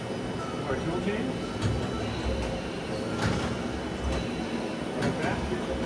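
Tool change on a 2008 HURCO TM-10 CNC lathe turning center, a few sharp mechanical clunks and indexing knocks over a steady machine hum, close by.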